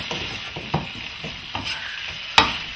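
One-pot chicken and vegetable sauce with basil bubbles softly in a pan, a steady low sizzle broken by a few light stirring scrapes and taps, close up.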